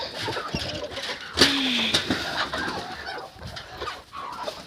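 A turkey and bantam hens call in a poultry yard: a sharp, loud squawk with a falling tone stands out, followed by softer clucks and chatter from nearby birds over a noisy outdoor background.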